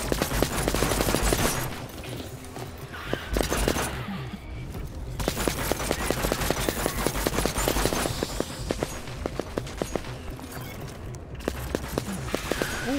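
Rapid bursts of gunfire from a weapon in the video game Superior crackle in quick repeated volleys across the whole stretch, loud and close, with no talk.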